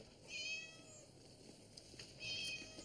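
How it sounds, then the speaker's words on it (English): Fluffy, a pet cat stuck up in a tree, gives two drawn-out meows separated by a short pause, fairly faint and with no talk over them. "I'm trying to get Mrs. Foley's cat Fluffy out of that tree"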